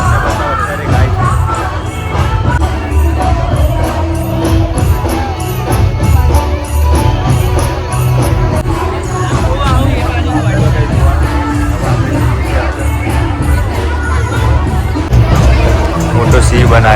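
A large crowd fills the Kankaria Carnival grounds in Ahmedabad on a December night, a dense, continuous roar of chatter and shouting children with occasional cheers, while a nearby person talks over the babble.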